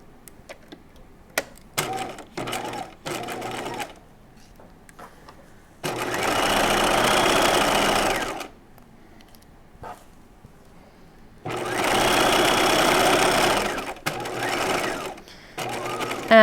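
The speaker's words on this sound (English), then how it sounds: "I'm going to start stitching again at the next" Stitching a halter top, a sewing machine runs in two loud, buzzing stretches of several seconds each, separated by quiet pauses filled with small taps and handling noises.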